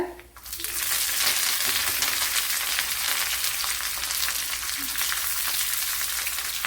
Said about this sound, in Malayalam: ഇതിലേക്ക് ഇനി ശകലം കറി ലീവ്സ് ഇട്ട് കൊടുക്കുക.